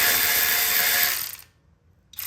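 A FLUENTPOWER 3/8-inch 18V brushless cordless electric ratchet wrench loosening a fastener, a close, loud buzzing mechanical whir with rapid clicking that stops after about a second, then a short pause before it briefly starts again.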